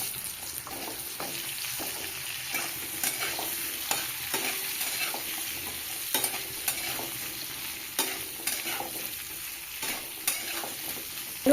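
Cut potatoes fry in hot fish-frying oil seasoned with bay leaf, cinnamon and cloves, a steady close sizzle broken by repeated scraping stirs of a spatula, with no talking.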